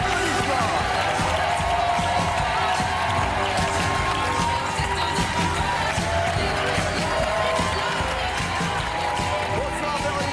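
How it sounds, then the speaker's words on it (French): A French TV talk-show studio audience applauds a guest as she arrives, with dense, sustained clapping and cheering that stays loud and steady throughout. "Applaudissements."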